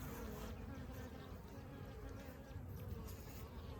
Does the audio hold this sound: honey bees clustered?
yes